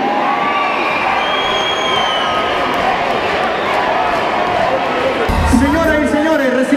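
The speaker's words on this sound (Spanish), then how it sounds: "ahí está ese grito de júbilo de las personas que esta noche están disfrutando ese buen carnaval" A dense crowd roars and cheers continuously inside a coliseum during the 2023 Guaranda carnival queen election, with a louder burst of voices near the end.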